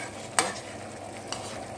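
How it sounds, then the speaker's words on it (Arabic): Chicken fries in a pan with a steady low sizzle, broken by a sharp scrape of stirring and a second, softer clink a moment later. "ها هو كيطيب ديال الدجاج"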